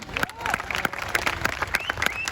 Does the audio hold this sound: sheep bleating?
no